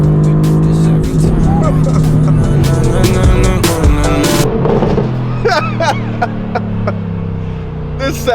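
Supercar engine revving and pulling away during a Christmas tree delivery run, loud and close with sharp throttle blips, gear changes and pops, while voices talk over it.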